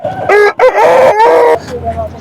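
A loud rooster crows close by at the Chintamani poultry market, one full drawn-out cock-a-doodle-doo call with a brief break in the middle.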